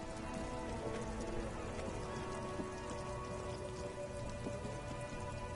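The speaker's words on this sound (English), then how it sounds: "We're walking around in the rain." Rain falls steadily on surfaces while a character walks around outdoors in Disco Elysium, a dense, even patter that holds unbroken throughout with no talking.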